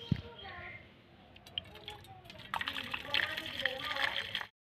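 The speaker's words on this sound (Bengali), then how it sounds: "এবার ছেঁকে ঢেলে নেব।" Boiled water flavored with a torn bay leaf is strained and poured for a papaya pudding cake, a close liquid trickle and splash that swells louder toward the end, with a voice talking over it.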